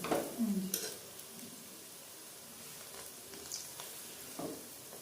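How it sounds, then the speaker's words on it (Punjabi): Gulgule, sweet fried dough balls, frying in hot oil, giving a quiet steady sizzle with a few small clinks and stirring sounds from the pan and utensils. "ਗੁਲਗੁਲੇ ਪਕਾਉਣ ਲੱਗ ਗਏ"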